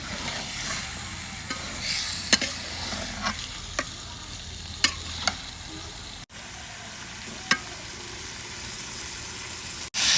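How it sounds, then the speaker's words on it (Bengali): Broiler chicken meat stir-fried with spices in a pan: a steady close sizzle with scattered sharp scrapes and knocks of a stirring utensil against the pan over about ten seconds, no talking. "মাংসটুকু হচ্ছে ভালোভাবে কষাতে হবে।"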